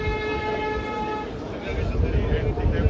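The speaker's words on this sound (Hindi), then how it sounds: "अभी ट्रॉली की गति बढ़ाई गई है, ये जिस गति से चल रही है आप देख सकते हैं इसके व्हील किस प्रकार से दौड़ रहे हैं।" Rail trolley carrying officials running along the track across the Chenab rail bridge, a steady loud rolling rumble with a tonal hum that roughens and builds as the trolley speeds up.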